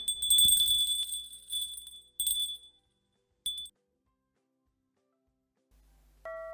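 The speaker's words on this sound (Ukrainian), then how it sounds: "Це рибальські дзвіночки." Small fishing bells jingle and tinkle in a few quick bursts separated by silence, bright and close, ending with a soft clear chime.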